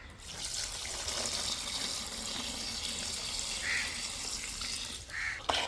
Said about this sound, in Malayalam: നമ്മൾ ഊറ്റിയെടുത്ത വെള്ളമില്ലേ അത് ഇതിൻ്റെ അകത്തോട്ട് ഒഴിച്ചു കൊടുക്കാം